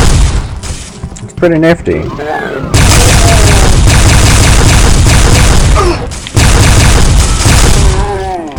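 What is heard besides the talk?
wave beam firing in the video game Metroid Dreadnought Doom 2 mod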